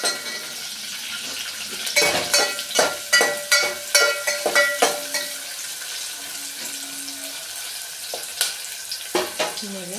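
Sliced onions frying in a pan for a home recipe, a constant hissing sizzle with repeated sharp clinks of a spoon stirring against the pan in bursts.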